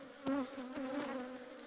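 Honeybees buzzing close by at a hive in an apiary, a steady droning hum with a few brief louder passes of individual bees.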